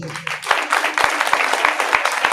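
An audience applauds at a Jain Dashlakshan religious discourse on Uttam Shauch Dharma in Nehanagar. Loud, close clapping builds quickly and carries on with some distinct claps standing out, while a voice is heard beneath it.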